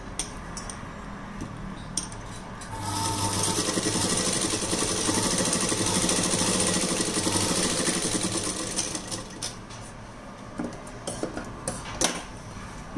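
Sewing machine stitching a blouse runs steadily for about seven seconds in the middle of the clip, a close, continuous whirring hum with stop-start clatter before and after, and no one talking.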